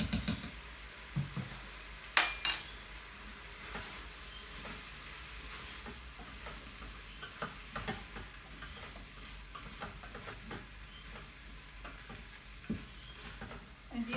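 Carrots, celery, chicken and bacon are stirred with plain flour in a pan, giving a soft, steady sizzle with occasional scraping knocks, the loudest near the start.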